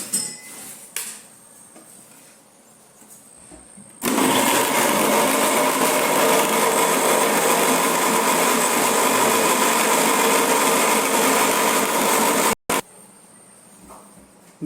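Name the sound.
tomatoes being pureed in a jar blender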